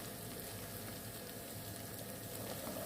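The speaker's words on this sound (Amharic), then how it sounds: "ሽንኩርት ጋር እየጠበስኩ ነው።" Onions fry in a pan with a steady, even sizzle and crackle that holds throughout, fairly quiet and without talk.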